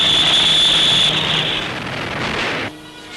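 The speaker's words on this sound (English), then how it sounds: "Our Spitfire has a top speed of 387 miles an hour." Spitfire fighter plane from 1940 in flight, its loud engine roar holding steady with a high whine before the sound drops away abruptly near the end.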